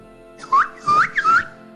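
A person whistles three short rising notes in quick succession, clear and close, alone with no talking.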